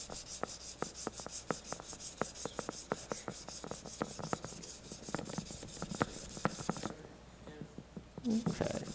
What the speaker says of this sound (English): In between grits, you want to rub it off with a cloth to get any possible chunks of sand the coarser sandpaper out of there.